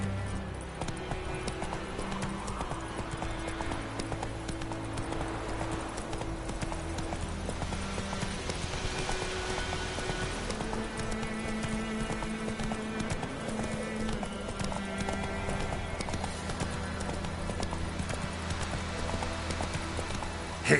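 Hoofbeats of Roach, the horse in The Witcher 3, galloping in a steady clip-clop rhythm under a continuous bed of game music and ambience, with a brief whinny possible.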